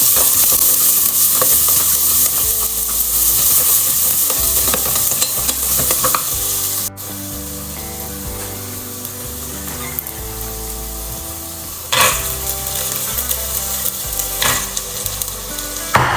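Chopped vegetables, green peas and soaked soya chunks sauté in a hot pan, a continuous sizzle with occasional stirring scrapes heard over background music.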